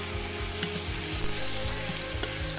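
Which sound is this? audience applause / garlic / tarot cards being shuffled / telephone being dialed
garlic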